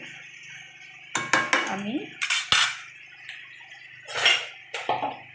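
Dried fish being stirred in a cooking pot, with several sharp utensil scrapes and metallic clinks against the pot in short bursts, close and fairly loud, with a brief word spoken.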